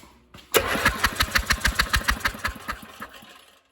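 A three-wheeler engine cranks over with its spark plug out and no spark, giving a steady run of about a dozen rhythmic compression pulses that start abruptly, sound close and loud, and fade out after roughly three seconds.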